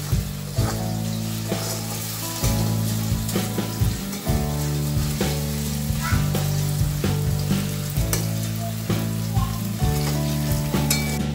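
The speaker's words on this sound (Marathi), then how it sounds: "आणि तेलामध्ये परतून घ्यायचे आहे।" Potatoes and green chillies sauté loudly in hot oil for sabudana khichdi, a steady close sizzle with repeated stirring scrapes and knocks of the spoon against the pan throughout.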